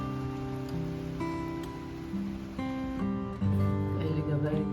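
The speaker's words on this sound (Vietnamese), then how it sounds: "nhưng vẫn còn mưa" Weekend rain falls steadily, a soft continuous hiss beneath tonal background music and occasional voices.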